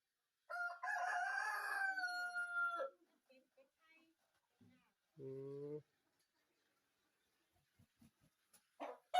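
On a Thai community farm plot in Lam Plai Mat, a rooster lets out a long, loud crow, followed by a shorter call and scattered faint clucks and rustles in otherwise quiet surroundings.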